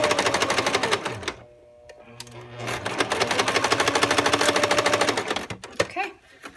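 A sewing machine stitching a skirt waistband runs in rapid, steady bursts with a short pause in between, loud and close, then stops near the end.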